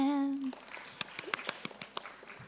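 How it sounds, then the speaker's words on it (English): An audience at a carbon pricing conference clapping hands, a brief burst of separate, moderately close claps of uneven rhythm following a short sung tone. "If you happy and you know, please clap your hand."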